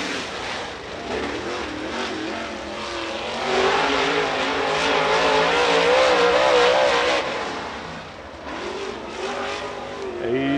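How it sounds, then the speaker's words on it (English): A super late model race car running a qualifying lap at North GA Speedway, its engine roaring continuously, swelling louder as it passes through the turns and fading slightly toward the end. "He brings his kryptonite car through three and four"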